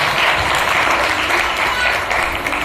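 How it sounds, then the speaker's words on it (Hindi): An audience applauds a children's stage play about Acharya Samantbhadra, with dense, steady clapping that stays loud and close throughout, with no voices heard. "इसके लिए जोरदार इन बच्चों को तालियां बजाएं।"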